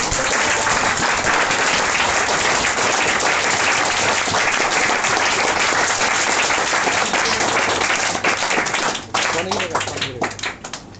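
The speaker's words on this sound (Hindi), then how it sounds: "चलिए तो खड़े होकर एक जोरदार तालियां फिर से साथ दीजिए।" A standing audience at a club event in Bihar claps loudly and continuously, a dense sustained roar of applause that thins near the end as a voice begins speaking over it.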